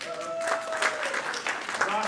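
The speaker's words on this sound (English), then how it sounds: "Let's give a round of applause to Roscoe." Moderate audience applause at an education advocacy gathering, a room of people clapping steadily while a voice speaks briefly over it.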